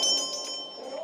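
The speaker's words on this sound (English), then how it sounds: "The bell signals the start of another day" School bell ringing in a metro station used as a classroom in Kharkiv, Ukraine; a brief, steady ring with sustained metallic tones, moderately loud over the station's reverberant ambience.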